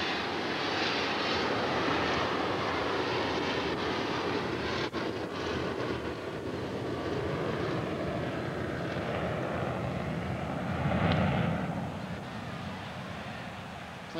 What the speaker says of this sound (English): Plane sounded like it was going to Cincinnati.